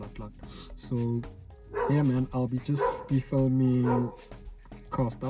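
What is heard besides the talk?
dog barking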